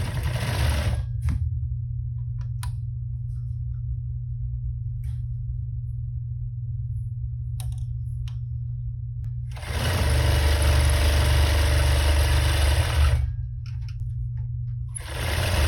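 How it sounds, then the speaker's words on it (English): An industrial straight-stitch sewing machine winds a bobbin with a steady low motor hum. A louder, brighter whirring burst of running stitches rises partway through, with a few faint clicks in between. "10 feet of sewing and our bobbin is released."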